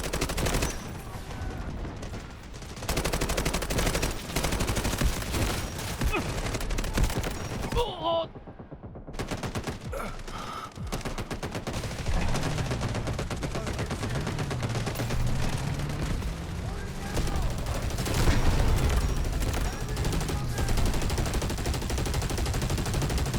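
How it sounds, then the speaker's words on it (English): Dense, sustained automatic gunfire in the Delta Force shooter game, with rapid loud bursts that keep going nearly throughout, a brief lull partway, and a voice talking under the shooting. "just switch to machine gun"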